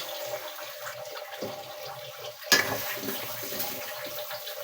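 Water runs from a tap into a cooking pot for boiling, a steady splashing rush near the mic with a louder surge midway, faint clinks around it.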